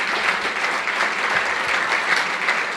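A banquet audience at an awards tribute applauds steadily for recognized staff, a dense wash of clapping with no pauses, moderately loud.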